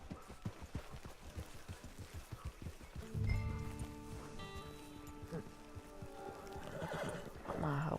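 A horse in Red Dead Redemption 2 whinnies loudly midway, with its hooves clip-clopping in a steady rhythm before and after, close by over a rustling outdoor background.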